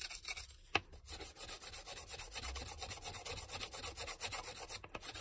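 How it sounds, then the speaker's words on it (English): Rhythmic back-and-forth rasping of a sanding block on a pen, quick regular strokes close up, with a couple of brief pauses and no voices. "I just run over it one more time, all the way around, 360 degrees, good sanding"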